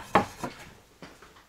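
A ceramic frying pan is handled in a shop, giving a few light knocks and clinks as it is picked up and set down, soft and close with no talk.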